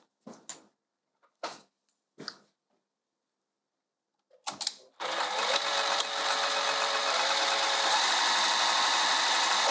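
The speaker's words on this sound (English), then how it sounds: "So what we're gonna do is sew this down on each side" A few separate clicks and taps, then a sewing machine starts stitching a lined dress bodice, running in a steady continuous whir close by for the last several seconds.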